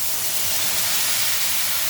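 Water poured into a hot pan of spiced potato and pea curry with kohlrabi sets off a loud, steady hiss of sizzling and steam that fills the whole moment, close and unbroken.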